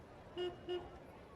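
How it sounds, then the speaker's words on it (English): Cars honking on a city street in America, used as a sound effect in a Call of Cthulhu tabletop role-playing session. Two short, evenly spaced horn toots sound faintly over a quiet background. "hear the cars honking at Alejandro in the street"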